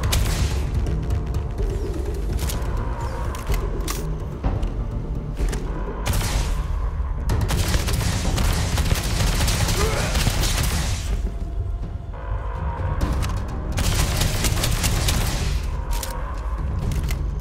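EM weapons firing in the video game Starfield amid a dense, continuous wash of game combat noise, booming bursts and rapid shots layered over one another without pause.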